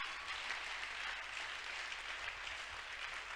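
A church congregation applauds during a sermon, a steady wash of many hands clapping together at moderate volume, continuous throughout with no voices standing out.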